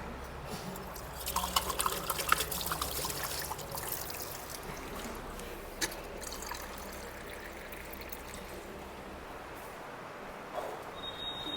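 Someone takes a drink of water, with close liquid trickling and sipping sounds that are strongest at the start and then settle into a soft, steady wash of background noise.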